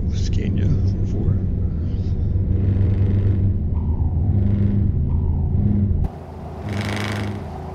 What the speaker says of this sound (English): I've never heard a V8 Scania before.